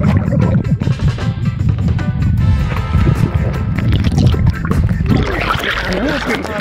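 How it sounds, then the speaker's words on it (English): Strong beach wind buffets the microphone over the rush and wash of waves, loud and continuous, with a voice faintly mixed in. "this is the beach out here"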